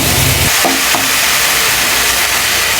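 Ingredients sizzling lightly in a pan before boiled eggs go in, a steady dense hiss from start to finish with a few soft scrapes of stirring near the beginning.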